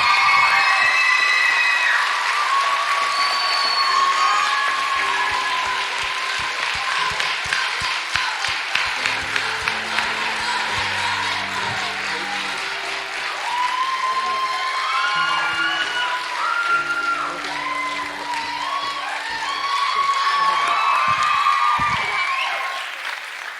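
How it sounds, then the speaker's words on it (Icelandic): Audience at a school song contest applauds after the third-place entry is announced, sustained clapping with cheers and whoops from a crowd, swelling and continuing for over twenty seconds. "Gefum hann gott klapp!"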